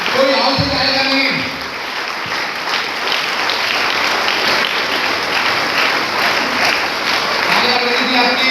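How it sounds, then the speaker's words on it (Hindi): A crowd claps steadily in sustained applause, loud and continuous for several seconds, with a brief voice at the start. "तालियां बजनी चाहिए आपकी।"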